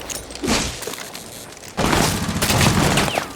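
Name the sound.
barricade shot and broken, video game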